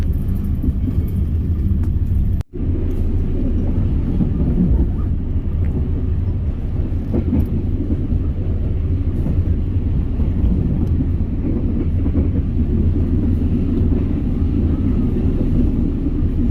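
A Blorasura commuter line train running between Babat and Pucuk stations, heard from on board as a steady, loud low rumble with continuous broadband noise and one brief dropout early on.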